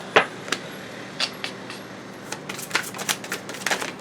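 Tarot cards are shuffled and flicked in a string of crisp, papery snaps, sparse at first, then quicker and denser toward the end.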